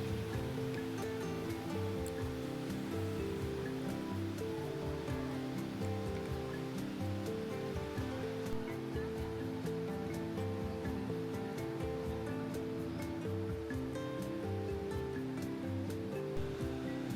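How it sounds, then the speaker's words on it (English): Roaring, steady rush of the Rain Vortex, the world's tallest indoor waterfall inside Jewel at Changi Airport, Singapore, a dense continuous wash of falling water filling the space with no voices. "the Rain Vortex is the world's tallest indoor waterfall"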